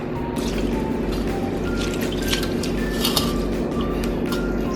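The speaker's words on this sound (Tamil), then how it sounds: "இப்போ நம்ம வந்து துவரம் பருப்பையும் கழுவிக்க போகிறோம்." Toor dal lentils are rinsed in water in a home kitchen, giving steady sloshing, trickling and dripping sounds that run continuously and close by, with no talking.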